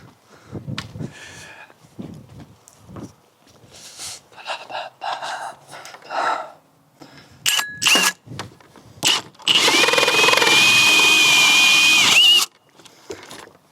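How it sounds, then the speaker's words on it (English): A hole saw cuts into a solid-core wooden door, building to one loud, steady whirring grind lasting a few seconds near the end. Earlier, short bursts of tool noise and rough close breathing come and go. "That's the thing about these hole saws. They're super forgiving once you get them into the wood."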